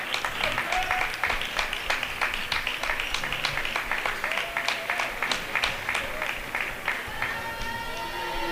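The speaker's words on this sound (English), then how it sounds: "Jackson Oliver, who will come out and get a nice round of applause" A basketball crowd at a high school game applauds as a senior player checks out, steady clapping filling the gym at moderate distance, with a commentator's voice partly under it.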